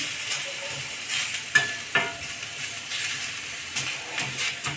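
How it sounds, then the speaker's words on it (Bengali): A boiled ingredient, first cooked with salt and turmeric, frying lightly in a pan: soft continuous sizzle broken by a few sharper stirring scrapes and clinks, close and moderately quiet, with no talking. "আমি হালকা ফ্রাই করে নিচ্ছি।"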